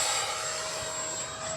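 Model F-86 Sabre with a 64mm electric ducted fan jet flying past, a steady high-pitched whine and broadband rush held at even loudness throughout, with no voices.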